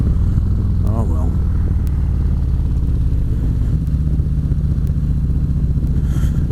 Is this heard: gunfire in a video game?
no